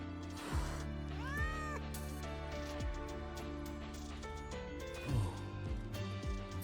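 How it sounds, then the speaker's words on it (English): A frightened stray cat meows in the video game Wuthering Waves, several soft plaintive meows spread across the passage over quiet background music. "It doesn't seem to be a cat registered with the academy."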